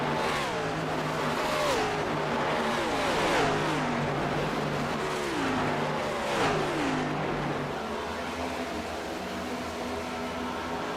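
Several stock cars in a racing sim roar down the back straightaway at Darlington Raceway, engine notes rising and falling in steady sweeping passes, loud and continuous with no talk over them.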